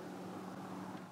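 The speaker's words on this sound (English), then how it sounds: "I've got a car coming, so sorry about the noise" A car's low engine rumble and tire hum drone steadily nearby, filling the short moment with no voices.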